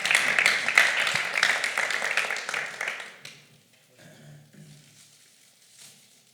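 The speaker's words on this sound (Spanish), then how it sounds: "Ah, quería aplaudir." Applause from a small audience at a podcast launch event, dense clapping for about three seconds, then fading into faint scattered claps and quiet room noise.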